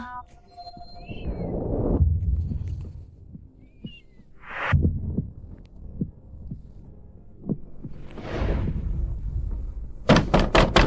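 Knocking on a door in a dramatic indoor scene, heard as a series of separate dull thuds spaced a second or so apart over a low steady hum, with a few brief vocal sounds in between.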